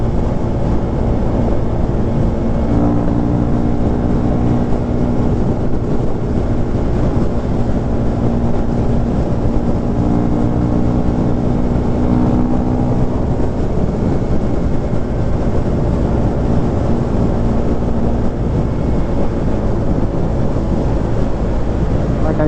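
Husqvarna Svartpilen motorcycle with an engine modification, heard while riding: a continuous engine drone with rushing wind noise throughout, steady in level across the whole ride.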